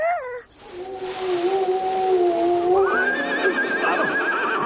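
A horse whinnies loudly and close, a long quavering neigh that rises and falls in pitch, followed by a second higher trembling call over low rustling background.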